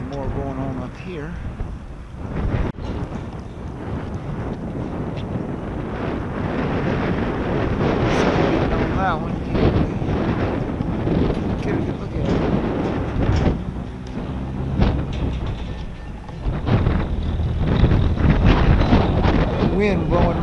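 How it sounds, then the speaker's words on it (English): Strong gusts buffet the microphone outdoors in uptown Roxboro, North Carolina, a loud continuous rumbling roar that swells and dips across the whole stretch, with a voice talking over parts of it. "Wind blowing mighty hard."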